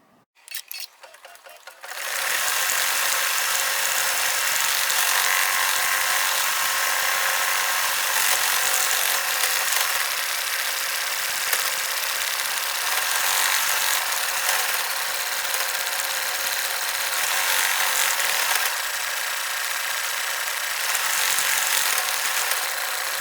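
Sewing machine stitching a satin outline of a tree bucket in red thread, a steady continuous mechanical whir that starts after a brief pause and runs evenly at close range.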